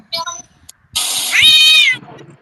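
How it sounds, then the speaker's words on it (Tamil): A cat lets out a loud, drawn-out meow that rises then falls, preceded by a brief, shorter vocal chirp, close and clear. "யாரோ ஒரு மிகப்பெரிய காட்டு பூனை கூட விளையாடிட்டு இருக்காங்க. சவுண்ட் கேக்குதுங்க."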